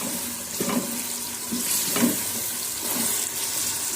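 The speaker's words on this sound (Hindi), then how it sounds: "मसाला हमारा रेडी हो चुका है और अब अम्मी ऐड कर रही है मोंगरे।" Aloo mongray fritters drop into a pan of hot masala, giving a steady sizzle with a few louder splashes and soft stirring clatter.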